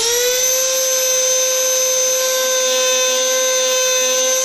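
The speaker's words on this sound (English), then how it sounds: "Go ahead and plug your Dremel in." A Dremel rotary tool spins steadily at high speed, a loud continuous whine with strong even overtones that holds without a break, close and alone.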